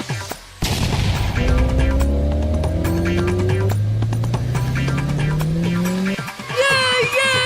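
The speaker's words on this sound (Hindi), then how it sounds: "मेरा कार सबसे आगे जा रहा है।" Cartoon race cars speed past in a race, with loud rising engine whines and screeching tires over a steady roar, ending with a brief higher wailing tone.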